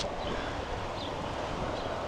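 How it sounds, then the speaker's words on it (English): Strong wind gusts steadily and buffets the microphone outdoors, making a loud, continuous broadband roar with no talking. "Very windy."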